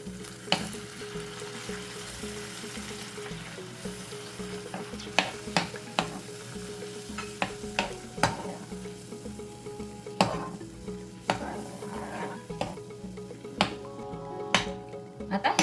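Milk poured into a pan and stirred while making an instant mango sweet, with a steady sizzle and bubbling broken by sharp spoon clicks against the metal throughout.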